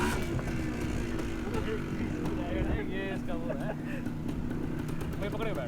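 A 1994 Suzuki TS 185cc motorcycle engine revs under acceleration with a loud, continuous roar throughout, while someone talks over it.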